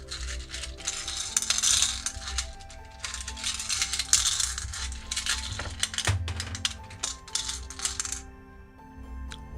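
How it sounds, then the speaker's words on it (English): Tarot cards and rune stones shuffled and jostled in a steady stream of dense clicking, clattering taps close by, with a low background hum and no voices. "the shuffling is not unbearable to listen to"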